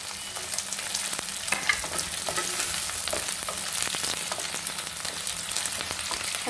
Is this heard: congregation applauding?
no